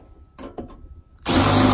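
A few soft knocks are followed by a cordless drill with a cheap, worn-out bit biting into a door, starting abruptly and running loud and steady to the end.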